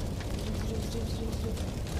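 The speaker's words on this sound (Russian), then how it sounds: "Ой, что такое? Взрыв." In a Minecraft train-crash scene, a loud explosion sets off a sustained, booming rumble with heavy low crackle that fills the whole stretch without a clear start or end.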